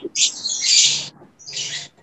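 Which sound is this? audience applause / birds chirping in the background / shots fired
birds chirping in the background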